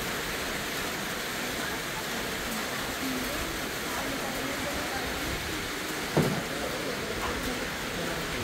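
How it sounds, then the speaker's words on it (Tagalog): Heavy rain in Tagaytay makes a dense, unbroken hiss that fills the whole stretch at an even level, with one brief knock partway through. "Lakas ng ulan."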